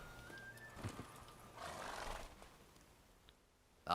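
A horse whinnies in a video game, a brief neigh near the start with faint hoofbeat-like clatter, then quiet, ending with a sudden loud burst.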